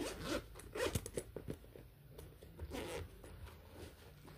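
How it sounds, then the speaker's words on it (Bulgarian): Someone pulls the zipper on a school pencil case, producing a close, scratchy zipping rasp in short bursts with small handling noises between them. "тук му се скъса ципа. И няма как да отварям."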